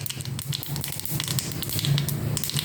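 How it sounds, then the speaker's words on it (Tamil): Mustard seeds splutter in hot oil and ghee with a dense crackle of small pops over a low frying hiss, close and continuous. "கடுகு வடிச்சிருக்கு"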